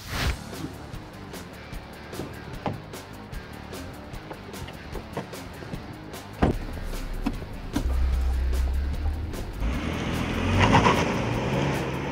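Lincoln MKX on a road test drive, with a steady low road and engine rumble throughout and a louder, fuller stretch of driving noise near the end.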